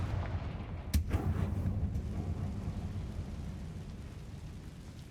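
Confringo fire blast spell cast in the Hogwarts Legacy video game: a sharp explosive burst near the one-second mark, then a rumbling low roar that lingers and slowly fades under steady background noise.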